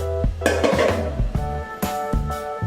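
Metal clatter and clinks of an idli steamer pot as steamed fish pieces are lifted out, with several sharp pot-and-lid knocks and scraping over a steady low hum, close and fairly loud.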